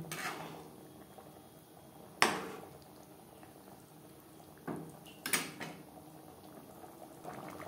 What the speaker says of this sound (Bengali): গ্রেভির সাথে ডিম আরও 2-3 মিনিট রান্না করব